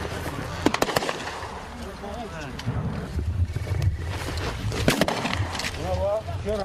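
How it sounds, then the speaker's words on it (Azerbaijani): Gunfire aimed at army positions in the Talish heights during the April 2016 fighting, heard as a few sharp, loud cracks spread through the clip, with a voice talking over a rumbling background. "Çəkiliş zamanı Ermənistan silahlı birləşmələri Azərbaycan ordusunun yeni mövqelərini atəşə tutur."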